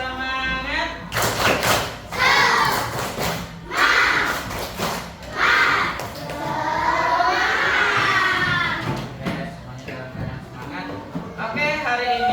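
A class of children performs the tepuk semangat chant, bursts of rhythmic clapping alternating with loud shouted group chanting, close and lively, with a teacher's voice leading between the rounds.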